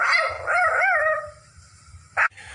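A dog gives a wavering, whining yelp that rises and falls, then trails off. After a short pause comes one sharp bark, close and fairly loud.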